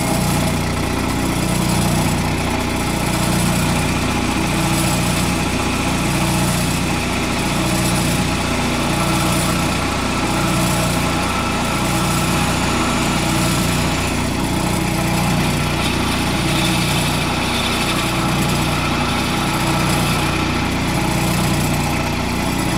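A wood lathe turns a wooden tenon while a cutting tool sizes it against a radius gauge. A steady, close motor hum with a rhythmic low throb runs for the whole stretch, and no one speaks.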